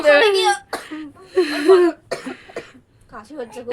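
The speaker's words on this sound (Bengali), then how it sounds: "এত কাশি হচ্ছে মেয়েটার" A young girl coughs in several sharp, close bursts that are mixed in with ongoing family talk at home.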